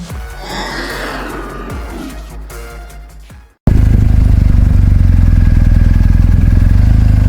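A superbike priced at about 27 lakh rupees on the road runs nearby with a loud, steady engine roar that starts abruptly after a stretch of background noise and holds to the end.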